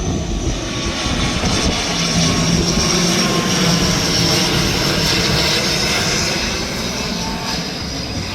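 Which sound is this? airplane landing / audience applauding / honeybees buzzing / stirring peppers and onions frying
airplane landing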